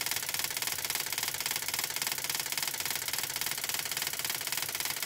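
A small DC motor runs as the load on an XL6009 step-up boost converter, giving a steady, continuous whirring hum with fine rapid texture that holds even for the whole stretch, with no talk.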